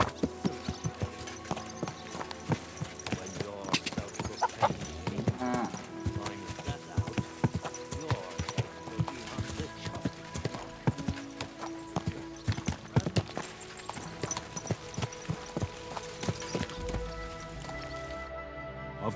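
Horse hooves clip-clop steadily in the medieval game Kingdom Come: Deliverance 2, a rhythmic, close series of hoof strikes over a soft patter of rain, with occasional voices speaking.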